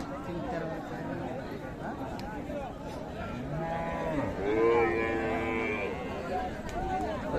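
A Sahiwal cow with her calf lows with a long, drawn-out moo at a busy cattle market in Dinajpur, amid a constant hum of nearby voices and crowd chatter.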